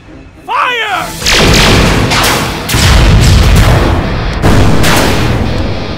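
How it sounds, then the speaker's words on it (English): Sci-fi blaster fire from the Power Rangers Ultra Zord in an audio drama battle against enemy ships: a swooping electronic sweep, then a string of heavy booming blasts and rumbling impacts rolling on, loud and close. "Its many blasts hit and destroy a few more ships."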